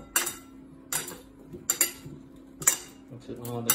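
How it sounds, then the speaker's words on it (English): Cucumber salad being tossed in a bowl, with utensils clinking and scraping against the dish in about five distinct bursts, close and moderately loud, separated by brief quiet gaps. "Mix it all together"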